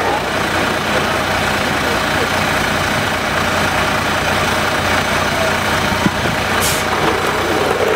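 Two identical veteran race cars drone on the track at Föne Raceway, a loud, continuous engine roar that stays close and steady, with a voice faintly underneath.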